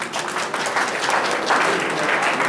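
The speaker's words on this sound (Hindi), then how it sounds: "जोरदार तालियों से" An audience at a community gathering welcomes guests with loud, dense applause, many hands clapping together steadily throughout.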